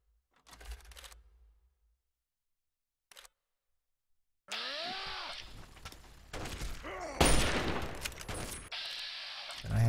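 Bursts of gunfire in Fallout 3, a couple of short isolated shots followed by dense, loud rapid firing and impacts with clattering debris, close and punchy, no talking.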